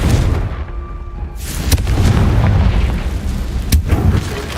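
A Confringo fire spell explosion in Hogwarts Legacy: a loud, deep boom with a rumbling blast that swells and lingers, followed by a sharp crack near the end, heard without speech.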